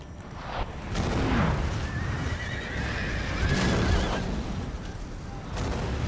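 Colonial light cavalry horses whinnying on the battlefield in Empire: Total War, several drawn-out neighs over a steady din of distant gunfire and hooves.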